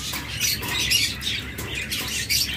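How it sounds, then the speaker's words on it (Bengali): A caged pair of birds squawks in harsh, repeated bursts at close range over faint background noise, with no talk. "এগুলো জঙ্গলে বেরি পাখি"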